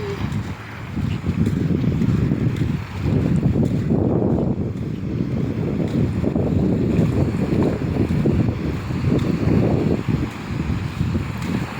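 A trawler out at sea, a low rumbling engine drone mixed with rushing wind buffeting the microphone and washing water, loud and continuous without pause.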